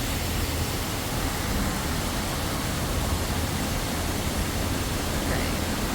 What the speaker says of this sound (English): So that waterfall is really pretty.